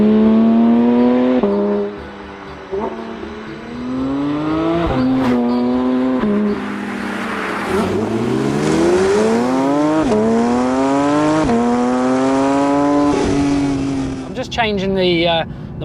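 A Porsche 911 GT3 engine revs hard at full throttle, climbing through the gears in rising howls with sharp shift breaks, loud and close from inside the car, with a voice briefly heard near the end.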